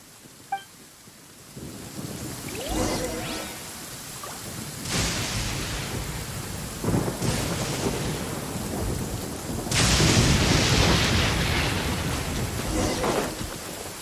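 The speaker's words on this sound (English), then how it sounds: "Uh-oh! Lightning storm!" A lightning storm in the video game Genshin Impact: steady rain with repeated loud thunder cracks and rolling rumbles, the heaviest burst near the end, and no talk.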